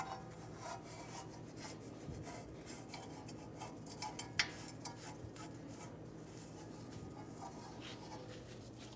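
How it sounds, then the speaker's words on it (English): A rag wipes down the brake backing plate area of a 2011-2014 Hyundai Sonata during a parking brake shoe replacement, making a faint, steady rubbing and scuffing with one sharp tick partway through. "wipe the area down."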